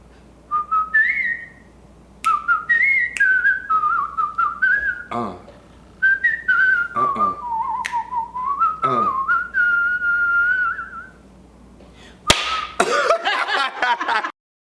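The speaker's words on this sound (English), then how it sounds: "You should whistle out." A person whistles a lively tune in short melodic phrases with brief pauses between them, clear and close, joined near the end by a sharp clap and a bit of background noise.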